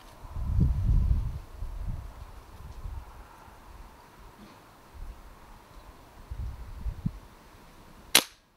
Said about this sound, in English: I'm sat here with night vision sniping them with an air gun.